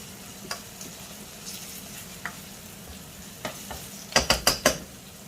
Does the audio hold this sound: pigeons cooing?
no